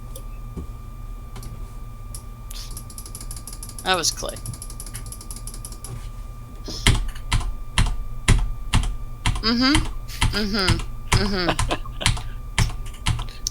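Rapid mechanical computer keyboard clicking runs through, sparse at first, then dense and loud with bursts of fast typing while people talk over it.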